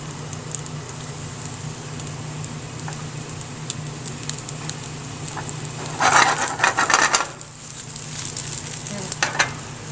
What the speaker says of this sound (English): Get all of our vegetables in the pan.